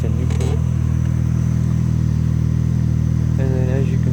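A Chevy Sonic's engine idles steadily after a spark plug change, a loud, even low hum with a faint whine, while someone talks briefly near the end.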